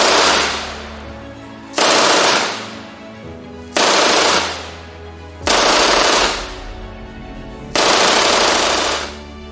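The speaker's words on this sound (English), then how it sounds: "the distinctive noise of an MG-42, Hitler's buzzsaw, from one of the buildings overlooking the square" MG-42 machine gun fires five loud, close bursts of rapid shots, each a couple of seconds apart with short gaps between them.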